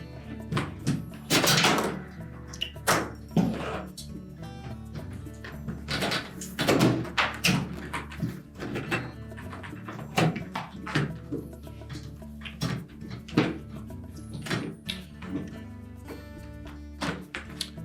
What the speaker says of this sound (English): So just carefully pull that siphon brake away from the tub. Unclip the hose from the top.